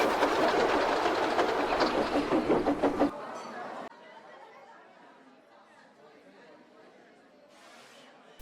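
Steam locomotive puffing along railway tracks, with loud rhythmic chuffs and rail clatter for about three seconds before the sound drops away to a faint, distant background rumble.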